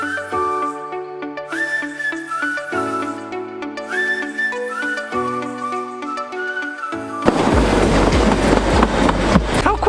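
A train horn sounds repeated chords, then the loud rushing clatter of a very old, slow-moving train passing close by on the rails of the Šargan Eight line at Mokra Gora, Serbia.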